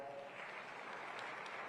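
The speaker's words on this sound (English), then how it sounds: "A big round of applause for her." An audience at an African food systems forum applauds as the Norwegian Minister of International Development is introduced: a short burst of steady, dense clapping from many hands, heard at a fairly low level with no talk over it.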